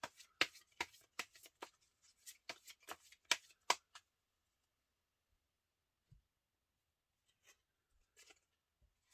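Tarot cards shuffled in quick, crisp riffles and slaps for a few seconds, then near silence broken by a few faint taps as cards are drawn, close and intimate.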